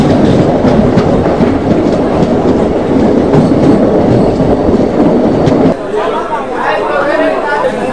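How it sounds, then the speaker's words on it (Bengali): Vibhuti Express passenger train bound for Prayagraj pulling out and running, a loud steady rumble of wheels on rails with clickety-clack and people chattering in the background, the roar dropping slightly near the end. "এখন কাটায় কাটায় 7:55 ট্রেন ছেড়ে দিল আমাদের বিভূতি এক্সপ্রেস।"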